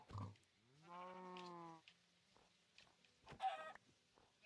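Pigs in Minecraft give grunting, oinking calls, a clear drawn-out grunt followed by shorter squeals, fairly close and quiet with gaps between them.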